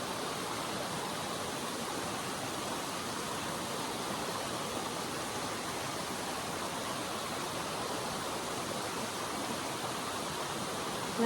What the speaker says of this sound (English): the distant sound of the river